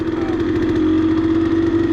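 A KTM LC2 motorcycle with a rebuilt single-cylinder engine runs at a steady idle, close and loud, as a continuous throbbing hum with no voices.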